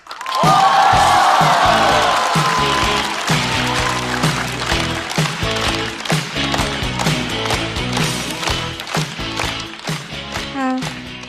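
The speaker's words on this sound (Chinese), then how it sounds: "掌声欢迎" Lively studio audience applause and cheering welcoming a comedian onto a stand-up comedy stage, with loud claps and whoops rising at once, then thinning into scattered, uneven clapping under music-like tones.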